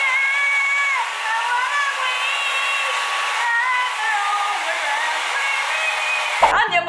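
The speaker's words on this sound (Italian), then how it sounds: "prenderò il phon, lo metterò con l'aria fredda e me lo sparerò in faccia" A handheld hair dryer on its cold setting aimed at the face, a loud steady whining blow with a shifting tonal hum that runs unbroken before a sharp clunk at the end.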